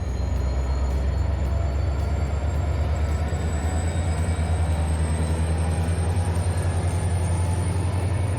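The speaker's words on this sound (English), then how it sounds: "Locomotive 19 powers up, pulling train 536 out of the station and on towards Perryville" A heavy MARC Penn Line train rumbles steadily nearby as its HHP-8 electric locomotive hums and whines rising in pitch, pulling away from the station with a constant low roar.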